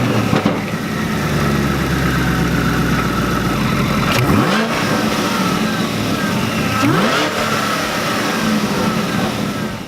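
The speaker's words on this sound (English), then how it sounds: "we're going to go ahead and start the engine and make sure there's no" A 6th-gen Camaro with a Whipple supercharger runs close and loud, its engine held at a steady rumble while two quick revs rise and fall partway through.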